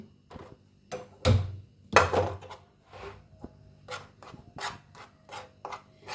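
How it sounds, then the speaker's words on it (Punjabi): Besan (gram flour) being stirred and roasted in a pan for a gravy, with scraping and rubbing strokes of a spoon against metal in an uneven rhythm, close and fairly quiet. "ਸਭ ਤੋਂ ਪਹਿਲਾਂ ਆਪਾਂ ਸ਼ੁਰੂ ਕਰਾਂਗੇ ਬੇਸਣ ਨੂੰ ਆਪਾਂ ਰੋਸਟ ਕਰਾਂਗੇ"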